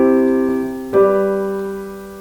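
A sustained chord rings out and, just under a second in, shifts to a second chord, the tonic moving to the dominant in an imperfect cadence, played alone with no talking.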